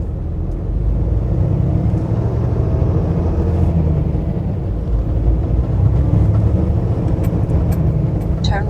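Car pulling away from a stop and driving along the Trans-Canada Highway near Saskatoon, a steady loud low engine and road rumble that holds throughout with no pauses.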